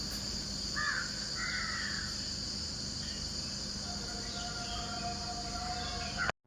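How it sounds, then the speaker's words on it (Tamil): Two or three short crow caws early on over a steady wash of insect chirring and dawn ambience, fairly distant; a faint tone enters later. "4:30க்கு காக்காலாம் கத்த ஸ்டார்ட் ஆகிடும்."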